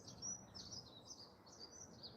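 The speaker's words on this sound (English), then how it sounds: "immersing myself in the sound coming from the birds, the surroundings" Birds chirp and tweet outdoors in green surroundings, faint and distant high calls repeating over a soft background hush, with no talk.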